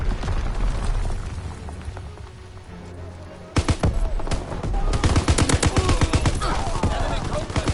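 Mortar rounds fire in a PS4 multiplayer shooter, with a quieter rumbling stretch giving way to a loud run of sharp, rapid blasts and crackling bursts, close and dense over background game noise.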